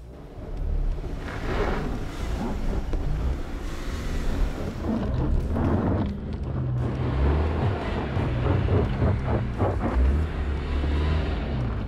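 A new Subaru Outback driving through deep snow in its snow driving mode: engine droning low under heavy wind buffeting, with crunching and scraping of tires and body pushing through snow, fairly loud and close.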